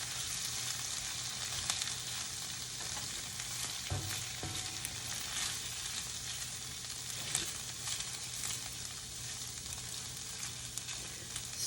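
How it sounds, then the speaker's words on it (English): Gnocchi browns in a hot pan, giving a continuous crackling sizzle of moderate loudness throughout, with occasional scraping and stirring knocks from a utensil. "I'm going to continue browning off this gnocchi"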